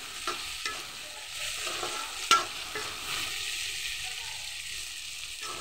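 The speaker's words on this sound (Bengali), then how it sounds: "শুটকি, রসুন আর বোম্বাই মরিচ সেটা দিয়েও এটাকে একটু ভাজা ভাজা করে নিচ্ছি" Dried fish, garlic and bombai chilies sizzle as they fry in a pan. The frying runs throughout, broken by stirring scrapes and one sharp clack from the spoon partway through.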